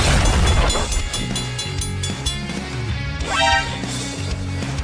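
Two trains pass on railway tracks with a loud, dense rolling roar and rhythmic clatter that swells and fades in a continuous rush.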